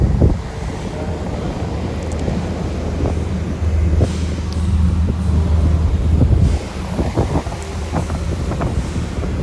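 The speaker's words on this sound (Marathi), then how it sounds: "स्पीड बोट जाते मांडव्यावरून आपल्या गेट ऑफ इंडियावरून 20 मिनटात पोचते. एकदम स्पीड असते तिला" A speed boat cruises fast across the sea from Gateway of India to Mandwa, with heavy wind buffeting the microphone over the low engine drone and rushing water spray, steady and loud throughout.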